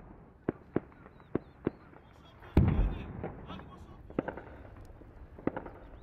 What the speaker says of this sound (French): Tirs d'artillerie, d'obus de mortier, combats rapprochés, tout y passe.